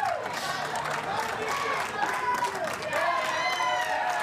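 A tennis crowd at the Cincinnati Open applauds and cheers after a mixed doubles point, sustained clapping and crowd noise filling the stands.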